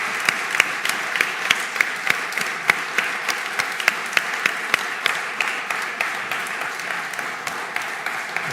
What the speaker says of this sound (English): And please give an applause to him.